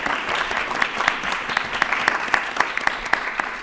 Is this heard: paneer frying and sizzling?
no